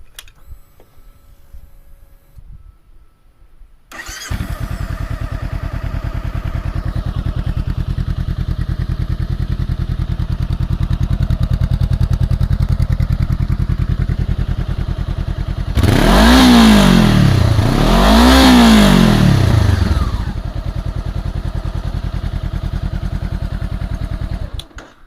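After a moment of near silence, a Honda CBR500R with a Musarri exhaust and silencer fitted starts and idles loudly up close, then gives two quick sharp revs before settling back to idle.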